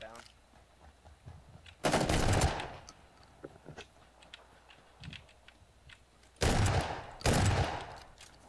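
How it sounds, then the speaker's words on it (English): Automatic shotgun fire in the video game PUBG comes as three loud, close bursts of rapid shots: one early, then two back-to-back near the end, with quieter game ambience between. "I thought that was an automatic shotgun"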